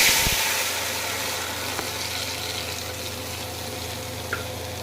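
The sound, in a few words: potatoes frying in hot oil in a pan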